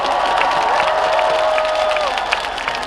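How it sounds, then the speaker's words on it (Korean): Concert crowd applauding and cheering at an open-air music venue in Daegu, a dense, steady wash of clapping with a sustained whistle-like tone running through it. "박수 부탁합니다."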